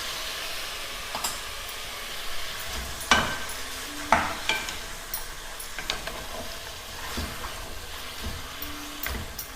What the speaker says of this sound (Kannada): ಇದನ್ನು ಒಂದು 3ರಿಂದ 4 ನಿಮಿಷದವರೆಗೂ ಸ್ವಲ್ಪ ಹುರ್ಕೊಳ್ಳೋಣ.